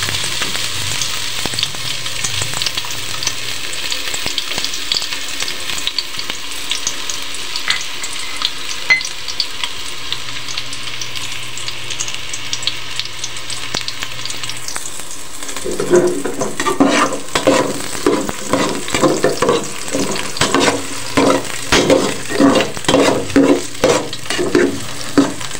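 Garlic, ginger and onion frying in oil, a steady close sizzle that grows busier halfway through as stirring scrapes and clatters take over.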